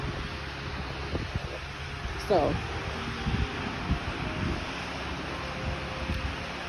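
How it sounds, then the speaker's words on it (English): Wind gusts buffet the microphone at a dam in Maryland, a constant broad roar under a person's brief speech, with a few louder thumps partway through. "It's pretty windy out here."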